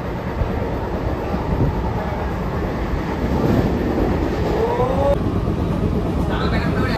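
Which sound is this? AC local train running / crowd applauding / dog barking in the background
AC local train running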